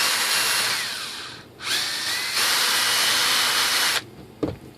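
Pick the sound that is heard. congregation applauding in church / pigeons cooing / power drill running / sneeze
power drill running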